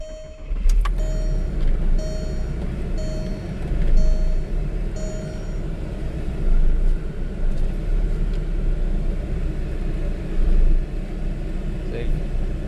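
A Volkswagen New Beetle engine rumbles low and steady while driving in first gear, heard from inside the car with a repeating faint chime, and someone talks over it.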